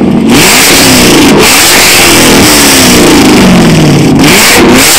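A car engine revs hard and loud, the pitch climbing and falling through several throttle blips, close and dominating.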